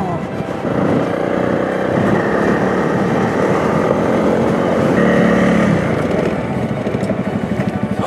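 A Honda CRF 300 motorcycle rides off-road on a rally raid, its engine droning steadily and loudly up close throughout, with a pulsing, labored note toward the end.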